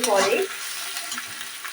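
Ginger, turmeric and spices frying in oil in a pan for a Bengali doi begun dish, with a brief stir-scrape at the start and then a steady close sizzle, no talking.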